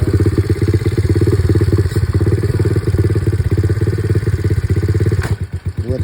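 A 125cc Apollo pit bike idles loudly up close with a rapid, even four-stroke putter, then the engine note shifts and pulses unevenly as it pulls away in first gear near the end.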